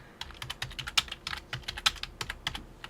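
Rapid clicking of computer keys being typed, irregular bursts of keystrokes close by, steady and moderately quiet with no voices.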